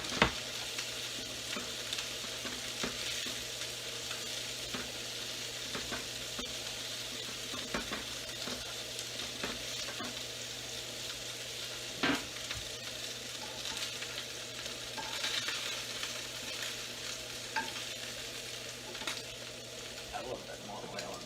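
Beans tipped into a hot oiled pan crackle and sizzle in a dense, continuous fry that stays loud and steady throughout, with occasional stirring scrapes.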